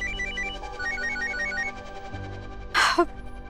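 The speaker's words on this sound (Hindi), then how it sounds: "अरे राधिका का फोन।" A phone ringtone plays a repeating electronic melody in short stepped phrases, then a sharp breathy gasp cuts in near the end.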